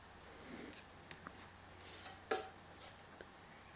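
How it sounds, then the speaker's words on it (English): A steel taping knife scrapes and spreads joint compound along a plasterboard internal corner in short, faint, quiet strokes, with a few scraping swipes and no voices. "Just rolling the knife up as I go, just to get the compound on."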